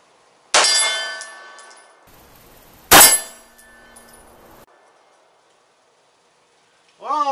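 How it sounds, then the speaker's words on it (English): Two sharp metallic clangs of arrows hitting a steel target ring out a couple of seconds apart, each leaving a bright ringing decay in otherwise quiet surroundings. "that sounds like a little more ding to me"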